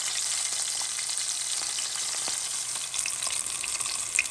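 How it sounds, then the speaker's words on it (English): Fish for Jamaican-style brown stew fish frying in hot oil, giving off a close, steady crackling sizzle with dense pops throughout. "Listen to that sizzle."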